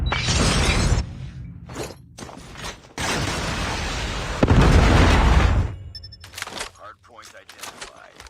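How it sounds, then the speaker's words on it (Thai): Explosions hit a player in a Call of Duty Mobile match, heavy booming blasts and shattering bursts in several loud bouts separated by quieter gaps, with voices talking over them. "โดนระเบิด"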